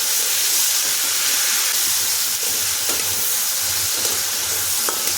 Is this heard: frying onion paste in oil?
yes